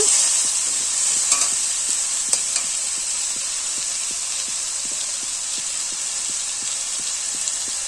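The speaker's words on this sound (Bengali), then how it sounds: "মশলাটাকে ভালো করে কষিয়ে নেব" Spice masala for chickpea ghugni sizzles in a pan while a spatula scrapes through it in an even, regular rhythm. A constant frying hiss sits underneath, close and fairly loud, with no talking.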